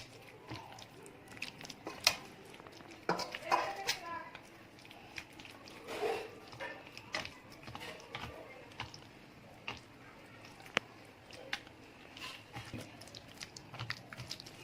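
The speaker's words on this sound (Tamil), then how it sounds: "இது நல்லா மிக்ஸ் பண்ணிப்போம்." Wet squishing and sticky clicks as chicken lollipops are mixed by hand with masala, irregular soft squelches and taps at close range, fairly quiet throughout.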